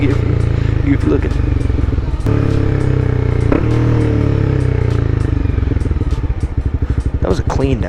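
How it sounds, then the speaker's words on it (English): A Honda CBR 300R motorcycle engine drones steadily up close, with rev blips as it downshifts, all under constant wind rush and a voice at times. "That was a clean downshift, that was."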